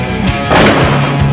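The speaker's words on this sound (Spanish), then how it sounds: "Ráfagas de tiros al aire retumbaban en cada esquina aledaña." Bursts of gunshots fired into the air echo through the surrounding street corners, a dense, booming volley that swells in the middle and rumbles on loudly throughout.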